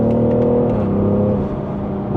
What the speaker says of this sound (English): when you put your foot down away from the lights, you get that initial jump on the 340i